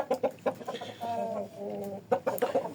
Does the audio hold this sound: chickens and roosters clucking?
yes